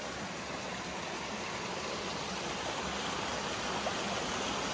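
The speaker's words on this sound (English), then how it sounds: "And we got a waterfall here." Steady, dense rushing of falling water fills the whole stretch, a constant broad roar with no voices.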